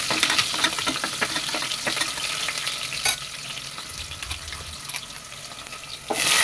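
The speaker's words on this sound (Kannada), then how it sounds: "ಅದ್ರ ಜೊತೆ ಒಂದು ಈರುಳ್ಳಿ ಹಾಕಿ ಅದ್ರ ಜೊತೆಗೆ ಹುರ್ಕೊತಾಯಿದ್ದೀನಿ" Onion frying with mustard seeds and spices in hot oil in a pan, a steady crackling sizzle with scattered pops and stirring scrapes, growing louder again at the end.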